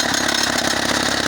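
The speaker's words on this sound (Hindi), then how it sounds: "अब आप देख सकते हैं इस पत्थर में ड्रिल हो रही है।" Drilling machine fitted with a two-foot auger bores into stone at a home construction site in Murree, a loud, continuous engine-driven roar that holds steady throughout with no pauses.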